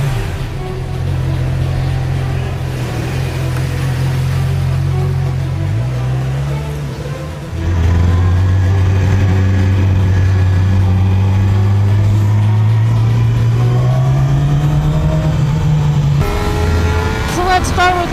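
A 2017 Yamaha R6 with its 600 cc engine runs on a racetrack, a loud sustained engine tone rising and shifting in pitch as it pulls through the gears, dropping briefly before surging again.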